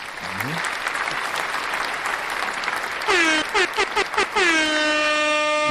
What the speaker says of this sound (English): Where is my applause there?